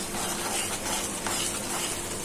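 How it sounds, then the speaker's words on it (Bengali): Spices with turmeric fry for a pangas fish dish, a dense, steady sizzle filling the pan while the mixture is stirred continuously, loud and close with no voices. "এখন নেড়ে চেড়ে মশলাটা কষিয়ে নিই,"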